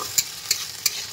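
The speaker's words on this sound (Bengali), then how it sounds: "এখানে দিয়ে দিয়েছি উচ্ছে ভাজা" Bitter gourd frying in a pan: three evenly spaced scraping stirs of a spatula cut through a low background sizzle, close and clear.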